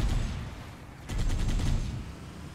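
Gunfire in Halo: Combat Evolved Anniversary, with a dense burst of rapid automatic shots rattling out, then thinning into a short rhythmic volley amid battle noise.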